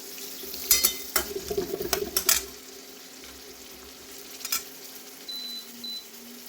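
Onion sautéing in a pan for a radish greens dish, with stirring clatter and a gentle sizzle in bursts over the first seconds, then quieter cooking and a couple of faint beeps near the end.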